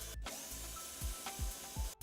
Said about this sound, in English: Pre-drill the awl marks using the 3/32 inch bit.